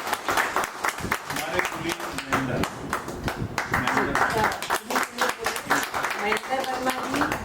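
Audience clapping at a lecture, uneven and moderately loud, with a voice talking over part of it.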